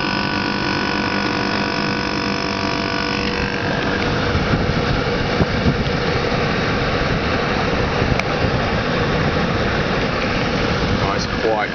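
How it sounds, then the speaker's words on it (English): A Weatherwall FM61H air conditioner compressor runs with a steady, close mechanical hum and engine-like drone throughout, a tonal whine fading after the first few seconds into a broad, even rumble. "Nice, quiet, well-made compressor."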